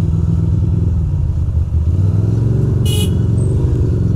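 A small Honda Rebel motorcycle passes on a city street in Queens, its steady engine drone heard close alongside traffic rumble, with a short high beep partway through.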